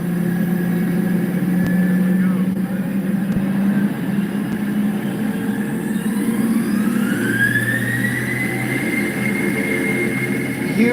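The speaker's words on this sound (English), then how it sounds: "Listen to these engines rev up." Engines of a Boeing 717 jet, filmed from on board, drone loudly and steadily, then a rising whine sweeps upward as they spool up, with no talk.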